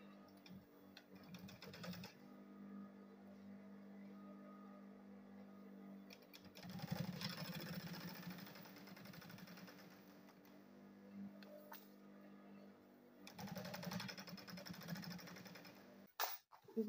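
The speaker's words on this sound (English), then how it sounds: "And I'll sew this one straight." A sewing machine stitches a straight seam on a fabric lunch bag, a steady close mechanical whir running in bursts with brief pauses between runs.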